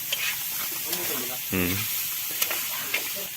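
Wild duck simmers in soy sauce and coconut milk in a pot, making a steady soft hiss and sizzle with light stirring clinks. A person speaks briefly over the cooking sound.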